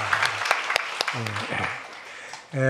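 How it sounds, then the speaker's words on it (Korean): Congregation clapping in a Korean-language Sunday church service after a choir hymn, moderate applause under a speaking voice, ending as a voice rises at the close. "우리 찬양을 받은 주님께 감사와 영광의 박수 올립니다"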